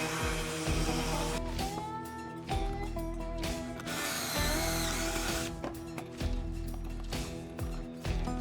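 Power sander run continuously over wooden boards, a steady loud droning whir with shifting pitch and periodic scrapes as the pad moves, without speech.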